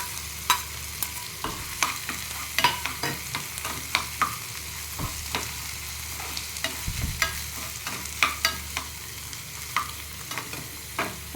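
Chopped onion and green chilies frying in a pan, a steady soft sizzle broken by sharp clicks and scrapes of a spoon stirring at irregular intervals, close and without talk.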